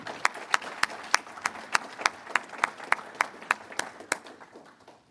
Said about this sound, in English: one more round of applause for our esteemed panel